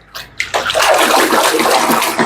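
A phone dunked and splashed in water during a water-resistance test, giving a close, continuous rush of running and splashing water that starts after a brief bump and fills the rest of the clip.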